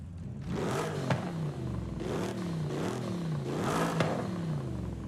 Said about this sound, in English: That's the traditional German V8 sound.